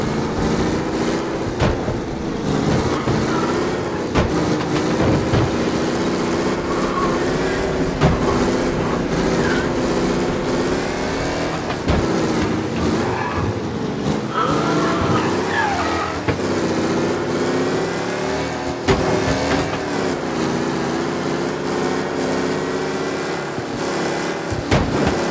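A 1930s-style car in Mafia Definitive Edition drives along with a continuous engine drone that rises and falls with the throttle, joined by music and game sounds and occasional thumps.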